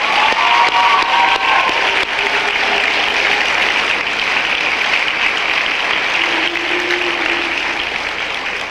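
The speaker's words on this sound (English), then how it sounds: "Join me in a rousing hand of applause for these outstanding students" Sustained applause from a school assembly crowd honouring graduating seniors, a steady dense wash of many hands clapping at close range throughout, with light cheering mixed in and no talk over it.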